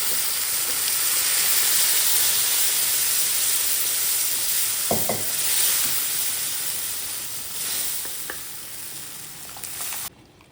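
Sambar poured into a pan of hot tempering with sautéed onions gives a broad, steady hiss and sizzle that slowly fades, with a few faint clinks along the way.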